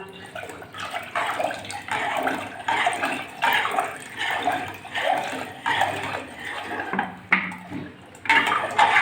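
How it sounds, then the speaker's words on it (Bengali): Water poured into a pot of mung dal with bitter gourd, splashing and gurgling in a series of short pulses, close and moderately loud, with faint clinks of a pot. "এবার জল দিয়ে দিচ্ছি পরিমাপ মতো"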